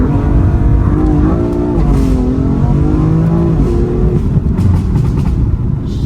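A 2015 BMW M4 F82 in Sport Plus mode accelerates hard with a loud, close engine roar whose pitch climbs in repeated rising sweeps through the gears, steady and dominant throughout.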